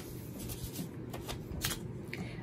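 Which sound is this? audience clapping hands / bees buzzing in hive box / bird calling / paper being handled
paper being handled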